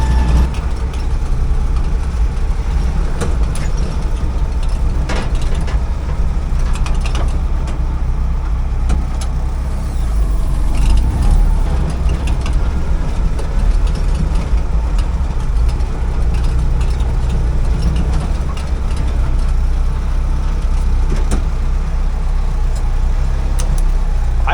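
Freshly rebuilt engine in a 1956 Willys CJ5 running at a slightly high idle: a loud, continuous low-pitched rumble, steady throughout with small rough pulses and no one speaking.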